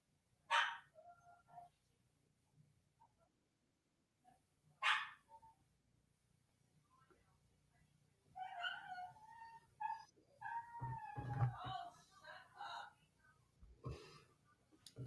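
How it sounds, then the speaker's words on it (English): A dog gives two sharp barks a few seconds apart, with faint whimpering possible in between, followed by people talking over a quiet indoor background. "Gosh, I hear my dog and everything."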